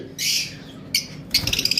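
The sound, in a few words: pet birds calling on a bird farm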